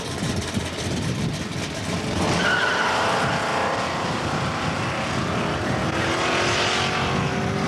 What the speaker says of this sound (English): The 6677 in the near lane, Kent Tracy of Kuna, Idaho